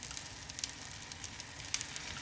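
Oil sizzles steadily under a wheat vegetable dosa cooking on a pan, a constant close crackle with a few sharper pops and no talking.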